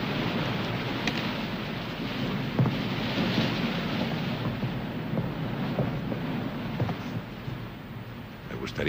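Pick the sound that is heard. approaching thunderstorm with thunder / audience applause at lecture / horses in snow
approaching thunderstorm with thunder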